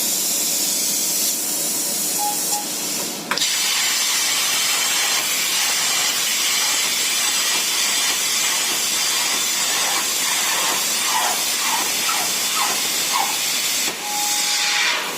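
A plasma cutter on a plasma table starts up with a loud, continuous hiss of compressed air, steady and close, with a faint high whistle tone and a slight shift partway through, no voices.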